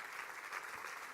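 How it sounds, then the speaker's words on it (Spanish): Brief, soft wash of clapping from a church congregation applauding the Lord during a sermon, faint and steady for about a second. "denle un aplauso al Señor si quieres"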